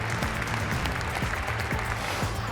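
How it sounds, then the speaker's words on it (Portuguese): A crowd giving a standing ovation to Trump during his inauguration speech, dense sustained clapping at close range with a low hum underneath, no talking. "e é aplaudido de pé"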